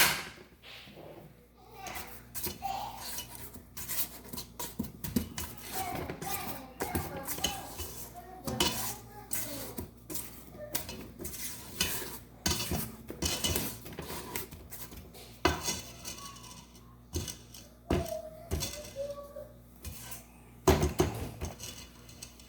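A spatula scrapes down thick Mississippi mud brownie batter in a mixing bowl, with repeated knocks and scrapes of utensil against the bowl, mixed with faint speech and kitchen clatter.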